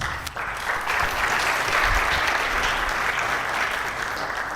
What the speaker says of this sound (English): give one more round of applause to our panelists